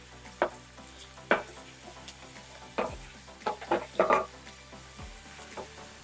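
Garlic and Italian seasoning are stirred in a pan, a spoon scraping and knocking against the metal in a handful of distinct strokes over a low sizzle, heard up close with no talking.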